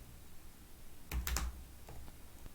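A quick burst of several keystrokes on a computer keyboard while Python code is typed, close and fairly quiet, with a couple of softer taps after it.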